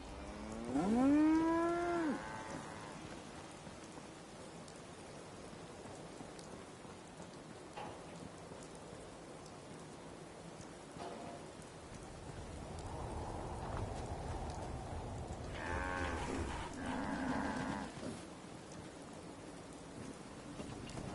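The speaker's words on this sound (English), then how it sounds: "Just thinking how wonderful it'd be to get out of this infernal rain." Steady rain falls in the video game Fallout 4, a soft continuous patter under quiet ambience. A loud bovine moo rises near the start, and faint tonal game sounds follow later.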